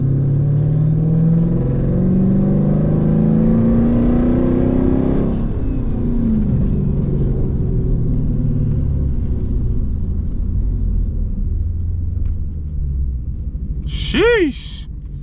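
A Dodge Challenger or Charger Scat Pack 392 V8 accelerates and cruises, a loud, close engine rumble with rising revs early on, then a steadier drone; voices talk over it and a brief chirp sounds near the end.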